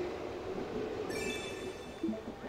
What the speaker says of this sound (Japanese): あ、待って、電車。